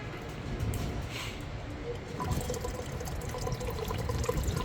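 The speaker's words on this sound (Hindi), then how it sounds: "अब ये देखिए फिर दोबारा ऑन हो गया और ये फिर पानी निकलना शुरू हो गया।" Water flowing from the pipe of a home-built DIY hydroponic NFT system, a soft continuous trickle and splash that picks up slightly as the pump switches back on, faint and steady throughout.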